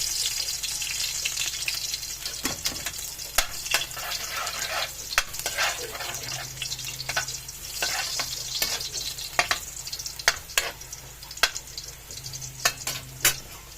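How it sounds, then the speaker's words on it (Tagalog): Garlic sizzles steadily in a hot pan at the start of a misua and pechay dish, with a continuous close crackle broken by repeated sharp clinks and scrapes of stirring, no talk. "Mainit na yung kawali. Nagit na yung bawang."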